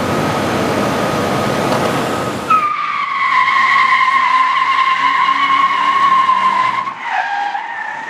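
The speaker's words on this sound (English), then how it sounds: "I've never gotten the tires to spin on it, and I couldn't get them to stop spinning" Dodge Dakota tires spinning on a test drive: a loud rough screech that gives way to a sustained high tire squeal with a brief dip and recovery near the end, no voices.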